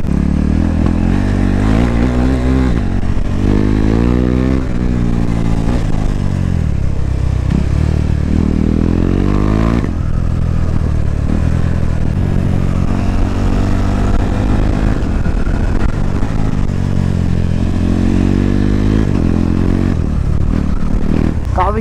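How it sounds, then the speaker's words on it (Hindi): A modified KTM Duke 390 motorcycle revs loudly and repeatedly up close, its engine pitch rising and falling in waves while it rides, with a rough, raspy exhaust tone. "काफी शोर कर रही है यार बाइक मेरी"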